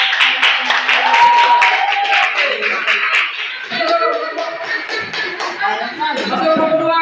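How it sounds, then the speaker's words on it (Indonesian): A group claps together in a quick burst of applause for a group presentation that carries on for several seconds, with voices mixed in among the clapping. "Tepuk tangan dulu kepada"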